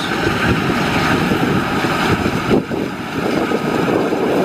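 Heavy, steady wind buffeting the microphone beside a Kombi Maxxi Bimo 102 combine harvester in a field, a constant roaring rumble that dips briefly partway through, with no voices.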